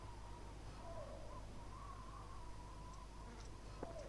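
An owl hoots faintly outdoors in a few soft, wavering calls, set against a steady low electrical hum that runs through the whole stretch.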